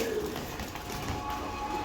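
Danish pigeons, a pair kept by a breeder, coo steadily in a low murmur against constant background noise, with no voices present.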